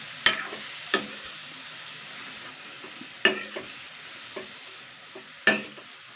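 Vegetables for veg momos stir-fried in a pan, a steady sizzle broken by three sharp scraping stirs and a few softer clinks, close and moderately loud with no talking.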